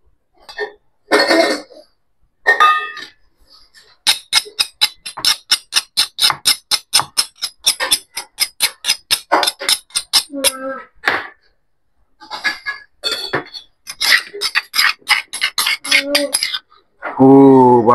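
Shallots, anchovies, chili and belacan pounded in a mortar, a long run of sharp, evenly spaced thuds at a steady rhythm, close and loud, with brief voices and clatter before and after.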